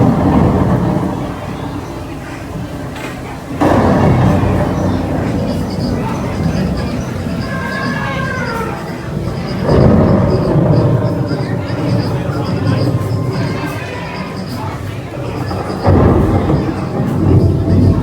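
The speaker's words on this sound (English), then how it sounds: "It's starting to rain." A loud rolling thunder rumble with steady rain fills a themed restaurant dining area, with repeated crashes over a constant low roar and people talking underneath.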